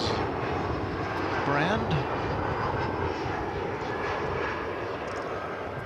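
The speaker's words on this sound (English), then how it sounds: "Off to Los Angeles goes this Airbus A321neo and the American Airlines" An American Airlines Airbus A321neo taking off from Dallas Fort Worth airport toward Los Angeles, a heavy continuous jet engine roar, loud and steady, with a voice talking over it.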